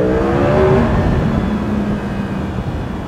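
A Yamaha R1 motorcycle engine roars steadily inside a tunnel with a hollow, echoing quality, holding at a constant drone with slight shifts in pitch.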